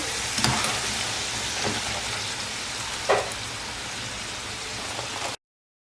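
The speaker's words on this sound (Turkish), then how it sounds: "Şimdi bütün patatesleri aynı şekilde ben kızartıp bitireyim." Steady crackling sizzle of potatoes frying in oil, close by, with a few sharper pops and no talking.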